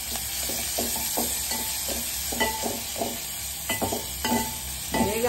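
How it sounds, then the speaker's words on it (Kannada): Mustard seeds and curry leaves sizzling in hot oil for tempering, a steady frying hiss under repeated sharp scraping strokes of a spoon against the pan, no voices. "ಈಗ ಒಗ್ಗರಣೆ ಕೊಡ್ತಾ ಇದ್ದೀನಿ. ಸಾಸಿವೆ, ಕರಿಬೇವು,"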